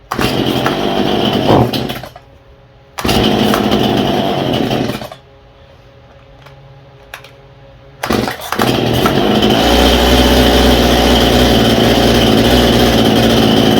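A Stihl MS171 chainsaw with a carburetor problem fires up loud and close, revving in bursts that drop into two quiet pauses before it settles into a steady, unbroken running roar.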